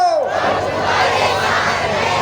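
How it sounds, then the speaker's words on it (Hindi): A large crowd at an election rally in Kotdwar shouts slogans in unison, a loud, dense and continuous roar of many voices that fills the space. "उससे पहले कैसी है भीड़ भाड़ दिखाते हैं आपको"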